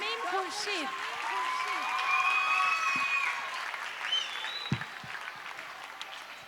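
Steady audience applause fills a school inauguration and blessing ceremony at St. Michael's School in Karachi as a college principal is welcomed, a sustained wash of clapping with faint voices and bird-like whistles over it.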